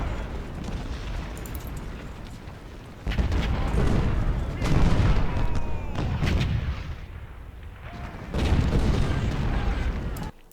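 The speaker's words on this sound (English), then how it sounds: "Now we're just taking ball fire from their artillery." Artillery cannon fire in the Civil War strategy game Ultimate General: Civil War, with repeated heavy booms and rumbling volleys in overlapping waves, loud and continuous with dense crackling gunfire.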